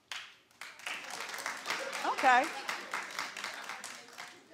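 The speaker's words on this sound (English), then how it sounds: "Clap if you do." A studio audience at a daytime TV talk show breaks into clapping and cheering that rises to a peak and then keeps going steadily, while a voice talks over it.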